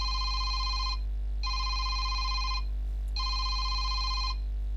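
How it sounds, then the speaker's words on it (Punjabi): A telephone rings for a listener phone-in call on an All India Radio farm programme, three clear, evenly spaced electronic ring bursts over a constant low hum, with no voices. "ਘੰਟੀ ਦੀ ਆਵਾਜ਼ ਜਿਹੜੀ ਹੈ ਬਾਰ-ਬਾਰ ਆ ਕਰਦੀ ਹੈ"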